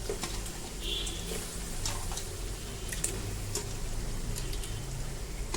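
Beef tripe frying in a spice paste in a pan, a steady close broadband sizzle with scattered small ticks and stirring clicks over about five seconds, no talking.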